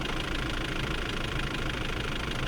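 A Mitsubishi L200 with the 4D56 diesel engine idles after a cylinder head install, a dense steady rumble with a fast knocking chatter, loud and close throughout with no voices.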